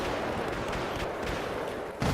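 Gunfire in Battlefield 4 on the Flood Zone map crackles as a dense, continuous burst of shots, ending in a louder blast near the close; brief and fairly loud with no voices heard.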